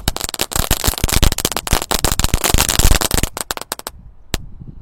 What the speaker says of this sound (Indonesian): yang pertama kita nyalakan adalah mercon telur dino pretek ya